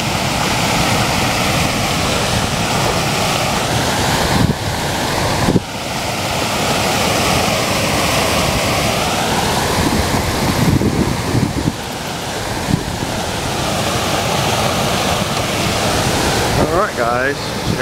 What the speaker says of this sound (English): The beautiful Missouri River.